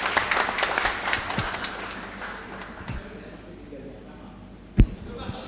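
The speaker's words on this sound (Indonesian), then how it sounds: "tolong berdiri kasih aplaus dulu buat beliau" An audience applauds, dense clapping that is loud at first and then fades to scattered claps, with a voice speaking over it.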